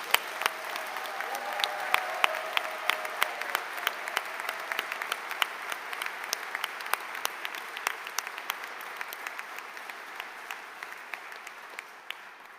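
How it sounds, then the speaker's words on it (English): An audience applauds steadily for several seconds, a dense patter of many hands clapping that slowly thins toward the end. "Let's give them a round of applause again."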